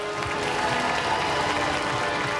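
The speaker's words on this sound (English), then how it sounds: "give them a round of applause" A television studio audience at a Robot Wars robot combat show claps in a steady, even wash of applause, continuous and unbroken throughout.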